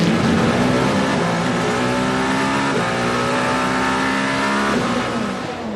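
Toyota race cars at the 24 Hours of Le Mans, a loud sustained engine roar with shifting pitch as the cars drive past, fading slightly at the end.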